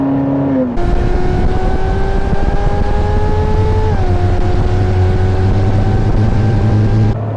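Ferrari California convertible on the move, its engine droning loud and close with a steady rising tone, one brief shift in pitch midway, and continuous road rumble beneath, no voices.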